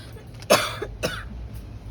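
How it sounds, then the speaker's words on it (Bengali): A woman coughs twice in quick succession, close and fairly loud, each burst short and harsh, with a quiet room around her. "সরি একটু প্রবলেম হচ্ছে, কাশি হচ্ছে প্রচুর"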